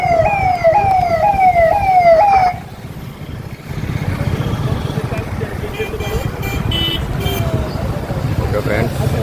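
A police vehicle siren wails in rapid rising sweeps, loud and close, then fades into traffic and engine rumble as the convoy passes on a road during a chief minister's visit.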